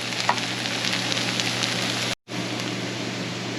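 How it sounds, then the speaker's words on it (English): Onion and flour sautéing over medium-low heat in a pan, a steady soft sizzle and crackle running throughout, close and even, with one brief cut to silence partway through. "You see the onion and the flour are sauteing together and it's turning nice and brown."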